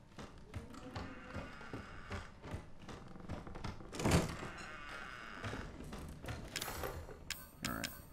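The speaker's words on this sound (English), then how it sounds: "unlock that drawer" A drawer being lockpicked and pulled open in Resident Evil 7: quiet clicks, taps and small mechanical rattles, a louder thump in the middle and scraping near the end, faint and close.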